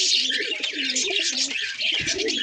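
A restless male highflyer Madrasi pigeon coos while held in the hand, a soft continuous close-up cooing and bird calling with faint handling rustle and no talk.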